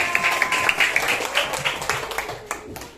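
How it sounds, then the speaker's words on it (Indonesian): Schoolchildren in a grade 4 classroom clap for a group, a brief burst of scattered, uneven applause that fades over a few seconds. "Beri tepuk tangan untuk kelompok 4"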